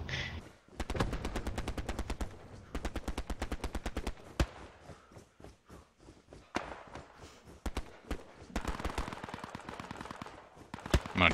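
Rapid machine gun bursts and single rifle shots ring out in the World War II shooter Hell Let Loose, loud and dense at first, then thinning into scattered shots before another heavy burst of fire.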